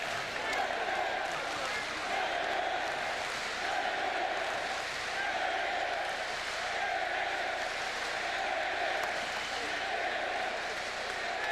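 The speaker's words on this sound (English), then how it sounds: "The crowd saluting the hitman." A boxing crowd cheers and applauds for Ricky Hatton after his fight with Ben Tackie, a dense, steady roar filling the arena with faint talk underneath.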